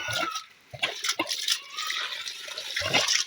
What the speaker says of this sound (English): We are pumping water.